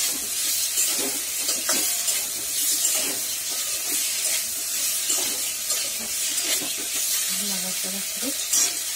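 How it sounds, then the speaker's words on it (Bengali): Cauliflower stalk chorchori with chopped tomato is stirred in a pan, a loud close sizzle with repeated scraping strokes, a steamy hiss and a brief voice near the end. "কপির ডাঁটা চচ্চড়ি একটু নাড়াচাড়া করে"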